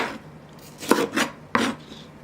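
Celery chopped with a knife on a cutting board: three sharp, crisp chops spaced apart, close and distinct, with quiet kitchen background in between.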